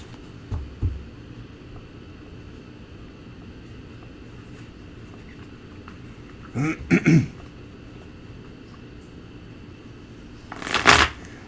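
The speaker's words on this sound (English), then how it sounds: "I'm going to shuffle the cards for you, Mr. Patton." Tarot cards being shuffled in quiet room tone, with a soft riffle near the start, a couple of crisp bursts of shuffling in the middle and a louder, sharper riffle at the end.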